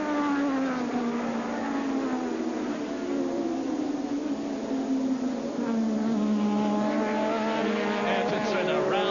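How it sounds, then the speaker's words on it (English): Formula 1 race cars of 1985 at Brands Hatch, heard as a continuous high-pitched engine whine that sweeps down and back up through the corners, steady and loud throughout. "Ayrton Senna rounding the right-hander at Dingledale Corner, dropping down into Dingledale Corner now into Sterling's the left-hander"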